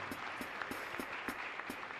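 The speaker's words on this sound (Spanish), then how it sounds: "Un fuerte aplauso para el padre Víctor" A congregation at a Mass for the Virgin of Caacupé feast applauds for Father Víctor, a faint, distant stream of clapping with evenly spaced sharper claps standing out.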